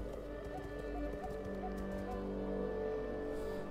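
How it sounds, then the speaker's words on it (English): Horses gallop and neigh in a Total War: Attila battle, with a steady dense clatter of hooves and a faint whinny over a continuous game soundscape, loud and sustained throughout. "Oh man, the horses are upon us."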